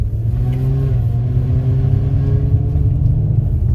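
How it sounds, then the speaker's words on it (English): An Infiniti G35 coupe accelerates up a hill, its engine a steady loud droning rumble with rising harmonics and a rattle from the exhaust running throughout, no voices. "Lots of rattling coming from the exhaust, but it's quiet, right?"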